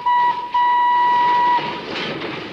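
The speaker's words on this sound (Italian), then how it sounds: "il treno si ferma davanti al casello" A train rolls slowly up to a railway crossing keeper's house, with a loud sustained horn or brake tone over rumbling wheels and carriage noise heard nearby.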